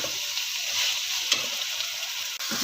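Vegetables for a potato, fenugreek, carrot and pea dish sizzle steadily in a pan, a close continuous frying hiss with a few small crackles and no talking.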